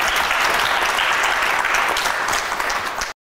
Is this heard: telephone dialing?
no